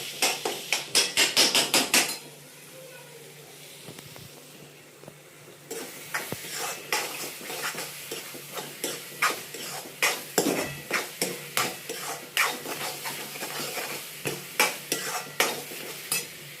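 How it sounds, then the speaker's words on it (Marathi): Mashed pav bhaji batter is stirred into a sizzling onion-tomato masala. A spoon strikes and scrapes the pan in a brisk, repeated rhythm of close, loud clacks over a steady fry. "आता आपण फायनली हे जे स्मॅश करून घेतलेलं बॅटर आहे ते आपण टाकूया"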